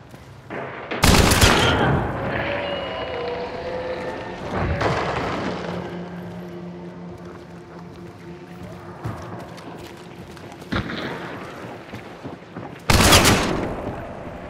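Gunfire in the multiplayer shooter Hunt: Showdown, including an AVTOMAT rifle: a few loud, sharp shots spread across the stretch with echoing tails and quieter rumbling between them, with no talking.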